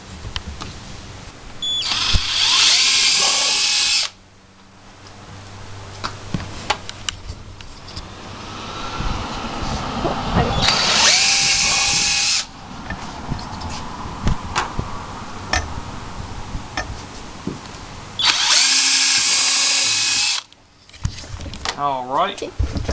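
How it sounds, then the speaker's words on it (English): A power drill whirs in three bursts of several seconds each, loud and close, drilling rivet holes for deck lashing, with quieter clattering and shuffling between runs. "I'm going to go ahead and drill the holes here."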